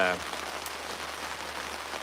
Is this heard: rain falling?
yes